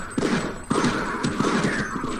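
Rapid gunfire bursts from the Half-Life video game, several sharp repeated shots in quick succession over about two seconds, fairly loud and without talk.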